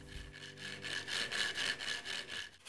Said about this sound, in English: With the sanding block on an angle, you can make a nice chamfer on the fret wire.